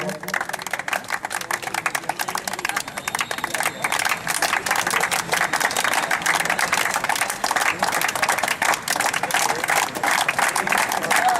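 Loud, sustained clapping fills a college hall at a freshers' party in India as the crowd cheers first-year students, with a thick, even rattle of many hands continuing throughout.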